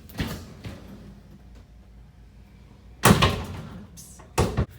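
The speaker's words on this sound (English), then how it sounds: "I can now close the door all the way." A door is pushed fully shut, with an early soft knock and rattle, then a loud solid thud of closing followed by a shorter latching clunk, all against a quiet fan hum.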